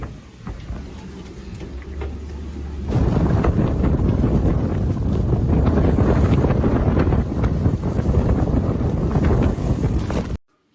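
Racing sailboat Bureau Vallée on the second day of the Route du Rhum ocean race, with strong wind roaring across the microphone over rushing water and hull noise, quieter for the first few seconds and then loud and steady until an abrupt stop.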